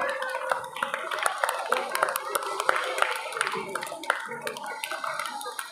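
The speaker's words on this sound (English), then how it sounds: "Have a big round of applause." Audience applause at SM's English Medium School's annual prize distribution ceremony in Karad, a steady crowd of clapping hands lasting several seconds, fairly close and continuous with no voices over it.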